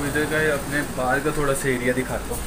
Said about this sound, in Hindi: एसी की आवाज़ है। ये आवाज़ बहुत ज़्यादा एसी का है।